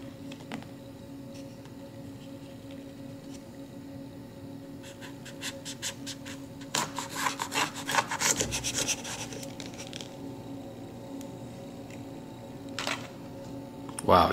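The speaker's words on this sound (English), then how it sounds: "so let's cut it open and see what's inside." A knife slices open a large, air-filled Brazilian Ghost Red chili pepper pod, with a burst of crisp scraping and rasping cuts in the middle, close and moderately loud over a faint steady hum.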